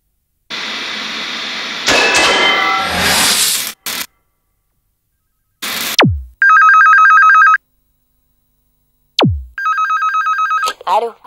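A telephone rings in two bursts of bright electronic trills, separated by gaps, after a stretch of loud muffled noise and clatter near the start.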